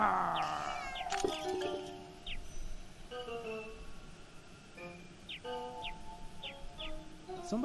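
Cat meowing in the point-and-click adventure game The Little Acre, a few short rising meows and chirpy calls at moderate level over a faint ambient game backdrop, with a louder burst near the start.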